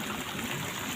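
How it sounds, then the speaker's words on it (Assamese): Floodwater surging in during rain, a steady broadband rushing and trickling flow heard close and continuous at moderate level with no voices. "ঢল বাগৰি আহিছে পানী।"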